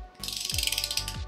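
Socket ratchet tightening cylinder head bolts on a Nissan 350Z, a rapid run of close metallic clicks in a steady rhythm, heard alone.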